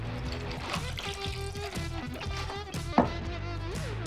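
Fresh squeezed lemonade pours into a huckleberry vodka cocktail in a glass, a short trickling stream with a bright clink near the end, close and fairly quiet, with faint background music.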